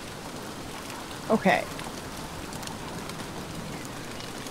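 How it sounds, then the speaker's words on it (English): Steady rain falling in the video game Don't Starve Together, a soft continuous hiss at low volume, interrupted once by a brief spoken word. "That hopefully will keep the rain off a little bit."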